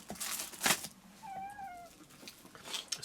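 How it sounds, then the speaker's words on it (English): A house cat meows once in a drawn-out, wavering cry, fairly close and clear, with soft rustling and handling noises around it. "Excuse the cat that's moaning."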